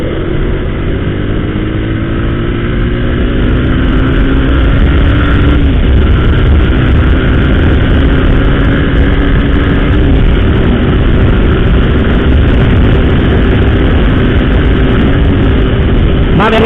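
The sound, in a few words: strong wind noise while riding a motorcycle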